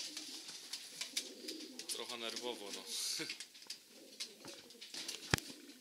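Breeding pigeon, a hen in a loft, cooing in several soft low rolling phrases near the middle, with someone speaking over much of it and a sharp click near the end.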